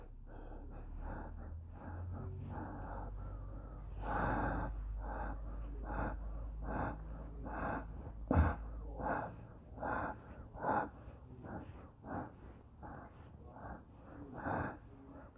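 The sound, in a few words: breathing out and in during chair yoga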